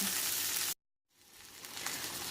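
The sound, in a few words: chocolate chilli rubbed beef searing in a pan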